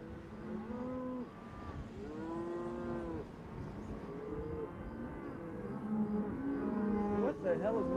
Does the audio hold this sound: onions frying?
no